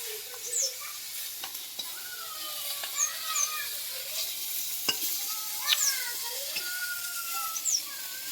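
A spatula stirs Katla fish kalia in a pot over a straw fire, making repeated scraping strokes over a constant sizzle, with quiet talk in the background.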